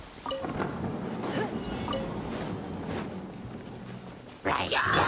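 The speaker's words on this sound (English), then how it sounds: "It's raining." Rain and rolling thunder in the video game Genshin Impact, a faint steady patter with low rumbles underneath while game character voices speak over it.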